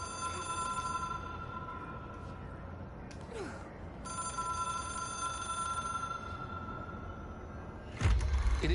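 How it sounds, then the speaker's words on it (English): A telephone rings in the video game Control: the Hotline, an otherworldly object of power. It rings steadily in long bright bursts with a short pause, over a low rumbling room tone, and ends with a heavy thump. "It is a phone."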